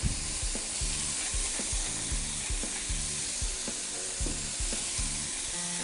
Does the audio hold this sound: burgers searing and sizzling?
yes